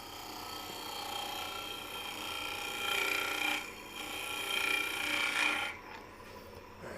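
A woodturning tool takes a slow, final finishing pass across a spinning wooden lidded box on the lathe, producing a steady scraping hiss that swells and eases in two long strokes before falling quiet.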